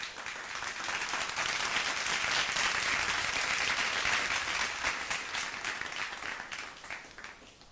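A crowd at a student honours ceremony in Khatauli claps together, a dense burst of applause swelling and then gradually tapering, with no voices above it.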